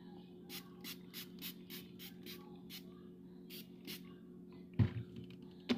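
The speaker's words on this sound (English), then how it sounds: "let me get my spray bottle. And we're just going to get some of them flyaways down. We're not spraying too much." A hand-pumped spray bottle mists hair to tame flyaways, giving a rapid series of about a dozen short, crisp hissing spritzes over a steady low hum, followed by a couple of louder handling thumps.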